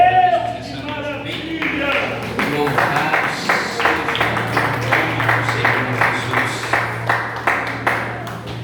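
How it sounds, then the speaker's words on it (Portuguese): A church congregation claps in a steady, rhythmic wave of many hands, with a low hum and a preacher's voice heard at the start and again over the clapping. "A igreja pode se assentar e dar uma salva de palmas."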